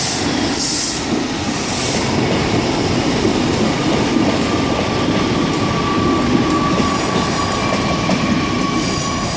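A train rolls steadily through Exeter St David's station on the Great Western Main Line in the evening, a loud continuous rumble of wheels on rail with faint squealing and a sustained tonal whine throughout, no voices.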